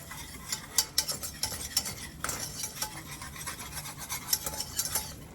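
A whisk beats flour into roasted garlic in a pan for a white mac and cheese, scraping and clinking rapidly against the metal in quick uneven strokes, close and fairly quiet with a light sizzle underneath.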